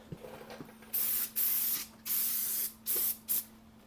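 Brake cleaner is sprayed onto a dirty caliper on a Jeep JK axle in five close, loud hissing bursts of uneven length, separated by brief quiet gaps.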